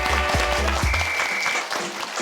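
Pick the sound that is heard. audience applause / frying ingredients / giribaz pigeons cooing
audience applause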